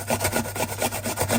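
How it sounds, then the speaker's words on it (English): Whole small thin-skinned potatoes grated on a hand grater, a steady repeated rasping stroke about five times a second, close and fairly loud, with no voices. "grate them as a whole"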